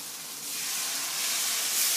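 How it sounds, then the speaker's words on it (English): A potato-based samosa filling sizzles in a hot pan, a bright steady hiss that swells slightly louder toward the end, close up with no voices. "you let that heat sizzle"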